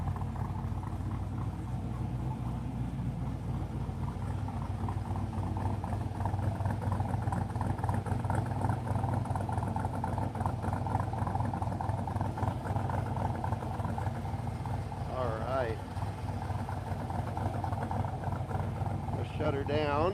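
A 1968 Triumph TR250 engine with a mean cam idles loud and steady at close range, its lumpy rumble running throughout, with a few faint squeaky sounds near the end.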